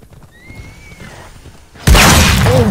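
In Assassin's Creed Odyssey, a horse whinnies faintly under low background rumble, then a sudden loud crash or impact bursts in and stays loud and dense to the end.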